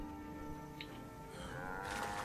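Cartoonish cow mooing from a cow in the video game Guild Wars 2, a single drawn-out low moo over steady game music and ambience, with brighter chime-like game effects near the end.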